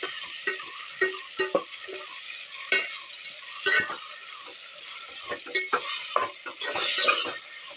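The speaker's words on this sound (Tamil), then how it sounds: "நல்லா வதங்கட்டும்." Tomatoes sautéing in a pan for a village-style chicken curry, with steady sizzling and frequent scraping strokes of a stirring spoon, close and fairly loud throughout.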